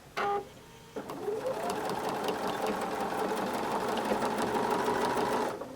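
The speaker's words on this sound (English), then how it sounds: "we have sewn all the way around, and you can see here that we have also double stitched across the corners" A sewing machine runs steadily around the edge of a quilt facing, a fast even whir of stitching that starts after a brief click and continues alone for several seconds.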